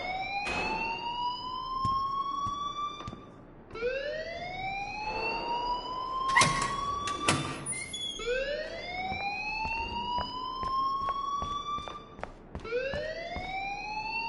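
A rising-and-falling electronic alarm siren sounds in the video game Life is Strange, sweeping upward in repeated wails of a few seconds each, loud and continuous with brief gaps and clicks between cycles.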